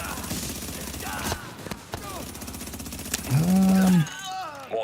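Gunfire in The Division comes as rapid bursts of shots and clatter over game effects and sirens, with a loud tonal alarm sweep near the end.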